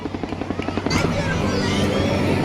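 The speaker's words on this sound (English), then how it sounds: "And here comes the noisy chopper." A helicopter flies overhead on a hot sunny road, its rotor thumping in a fast rhythmic chop that swells into a loud, roaring wash as it passes close.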